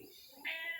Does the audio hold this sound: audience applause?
no